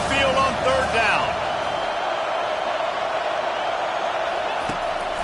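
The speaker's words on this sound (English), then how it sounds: "These fans are going absolutely nuts." Home football crowd roaring loudly in a stadium during a third-down defensive stand, a dense sustained wall of cheering with a commentator's voice over the start.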